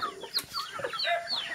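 Chickens clucking close by at a farm, a burst of short overlapping clucks and squawks from several birds, fairly loud and continuous, with no speech.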